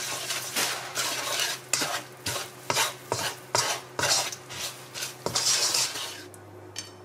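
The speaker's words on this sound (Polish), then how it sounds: "I ze dwie łyżki erytrytolu. Całość wymieszam." Spoon stirring two spoonfuls of erythritol into a mixture in a pot, a steady run of repeated scraping clinks against the metal with a faint sizzle underneath, close and clear, no talking.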